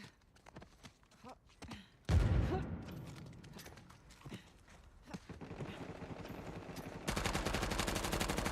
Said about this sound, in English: I always shoot slow on purpose to not waste ammo